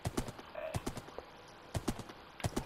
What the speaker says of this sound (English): It's a horse, not donkey.